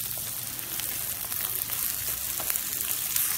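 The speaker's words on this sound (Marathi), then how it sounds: "आपण भिजलेली डाळ घालतोय चण्याची" Soaked chana dal added to hot oil with onion and frying, giving a continuous close sizzle with faint crackles throughout.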